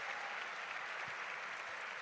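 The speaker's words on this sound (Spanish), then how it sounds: "le pedimos un gran aplauso" A large audience at a political speech on Latin America in Mexico breaks into steady, dense applause that fills the whole stretch at an even level, with no talk over it.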